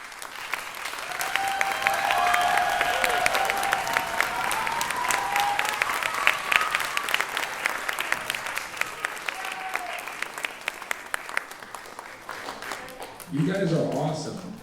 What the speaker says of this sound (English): Can we give you a big round of applause?